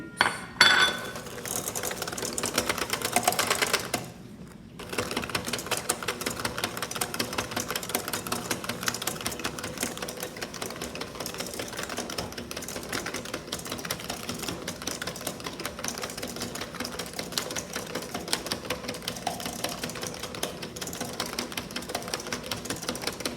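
A mixer beats salted butter with granulated sugar for cookie dough, a steady, even mechanical whirring with faint ticking that runs throughout at moderate loudness after a brief louder start, with no voices.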